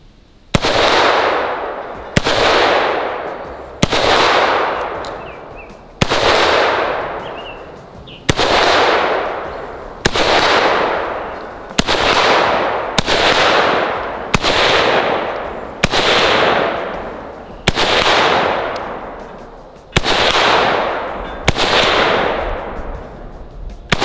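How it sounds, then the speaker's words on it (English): Rifle shots from an M14 or BM-59 at an outdoor range, about a dozen loud sharp cracks spaced a second or two apart, each followed by a long rolling echo, with no talking. "I may shoot two shots and give you the gun."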